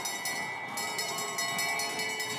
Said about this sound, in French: La cloche, la célébrissime cloche.